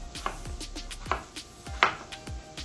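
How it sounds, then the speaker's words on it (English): A knife chopping a peeled plantain into roughly one-inch pieces for mofongo, giving four sharp, distinct knocks spaced about half a second to a second apart, close and fairly quiet, with no talking. "go ahead and cut your plantain into about 1-inch pieces"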